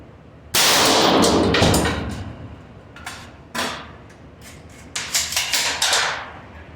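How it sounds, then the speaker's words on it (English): Rifle shots with M855 rounds at about ten feet strike a steel armor plate, each a sharp loud crack with a metallic clang: one big report early, then several spaced impacts, a few close together near the end. "We are shooting M855 first and then M193."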